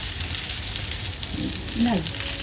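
A chicken roulade grills in butter with a steady, broad sizzle throughout, close and even, while a brief faint voice murmurs near the end.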